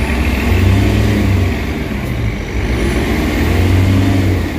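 An Isuzu MU-X diesel engine with a blow-by problem revs under load, a loud, close, steady drone that swells and eases in two broad pushes without climbing freely, with no voices over it.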